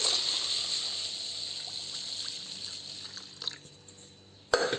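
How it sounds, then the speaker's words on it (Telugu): Water trickles and pours over fenugreek seeds and lentils set to soak for dosa batter, a soft, close pouring sound with light splashes, faint overall, ending in a brief louder clatter. "ఒక నీళ్ళు పోసి నానబెట్టేస్తాను"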